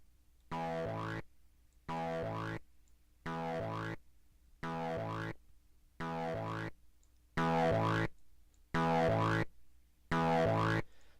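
A synth run through a distortion plugin plays eight short, evenly spaced buzzing stabs, its filter cutoff automated so the tone brightens and darkens from hit to hit, quiet and alone.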